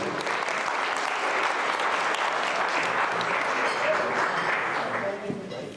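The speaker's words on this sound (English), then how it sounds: "Can we please give a round of applause for the gentleman, Dwayne Morgan." Sustained applause from a large audience, loud and steady throughout, thinning slightly near the end.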